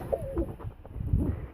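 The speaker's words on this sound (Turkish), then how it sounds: "Diğer kuşumuz sinekli arkadaşlar." A sinekli breed pigeon cooing during a pigeon guessing contest, soft low throaty coos close by with a brief rising call, fairly quiet against faint background.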